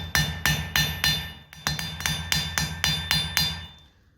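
A blacksmith's hammer strikes the end of a steel punch in a quick, steady series of about twelve sharp ringing blows, close and distinct, with a short pause midway before the last few hits fade.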